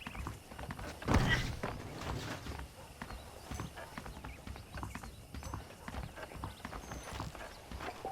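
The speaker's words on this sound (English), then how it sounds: "The horses are saddled up over here." Steady clip-clop of horse hooves on hard ground in a video game, an even trotting rhythm with a thump near the start and a faint background murmur.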